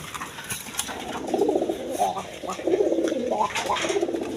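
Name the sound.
pair of Arabian koka pigeons cooing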